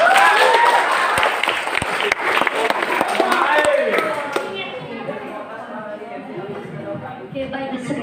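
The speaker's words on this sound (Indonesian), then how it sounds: "sekali lagi tepuk tangan untuk paslon nomor 2" An audience at a student body candidate debate applauds candidate pair number 2, dense clapping loud at first then thinning and fading into scattered claps, with a voice speaking over it.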